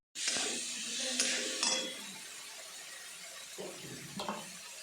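Ridge gourd vegetable is stirred in a hot pan, with a steady close sizzle and hiss broken by a few scraping strokes of a spoon, loud at first and then settling to a softer frying sound.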